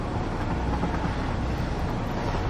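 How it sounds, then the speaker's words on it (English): A train in the video game Satisfactory gives a steady, dense rumble with a faint clatter, holding at an even loudness throughout with no talk over it. "Here's our train."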